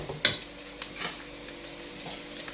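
Onions frying in a pan for a chicken liver dish, a soft, steady sizzle close by with a brief sharp clink of a utensil near the start and faint stirring scrapes.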